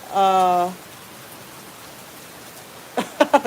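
Unexpected rain falls on a garden as a soft, steady hiss. A voice speaks briefly at the start and again near the end.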